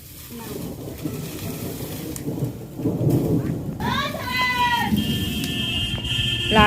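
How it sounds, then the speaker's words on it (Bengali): Deep thunder rumbles roll through a night thunderstorm, with steady rain falling, a loud broadband roar building midway, and a faint higher tonal cry near the end. "আশা করি তোমরা শুনতেই পাচ্ছ হচ্ছে কেমন সব মেঘ ডাকছে"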